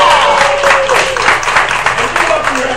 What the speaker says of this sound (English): a big round of applause for the coalition